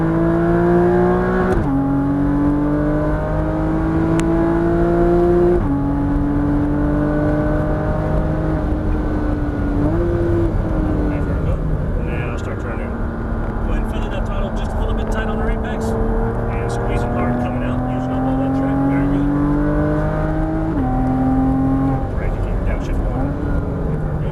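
A Porsche Cayman GTS driven hard on a race track, its engine droning and rising in pitch through repeated accelerations with brief drops at gear changes, heard from inside under near-continuous instructional talk.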